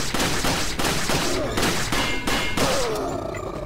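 Gunshots in Resident Evil 4, a rapid series of loud, sharp shots roughly every half second, each with a brief ringing tail, ending in a scattered volley.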